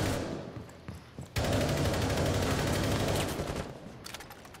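Rapid bursts of video game gunfire rattle in a dense, sustained fusillade, quieter at first and then loud and continuous after a sharp onset, with dense automatic shots.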